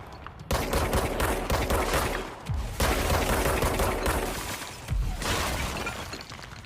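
Gunfire from the video game Control comes in loud, dense, rapid bursts mixed with crashing, shattering impacts. It runs almost continuously for several seconds with brief dips between volleys, and no one speaks.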